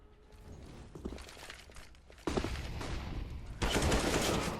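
Gunfire from the video game Counter-Strike: Global Offensive during a Cloud9 versus Mousesports match at the ELEAGUE Major 2018: bursts of shots with sharp jumps in loudness, building to a dense, loud volley near the end.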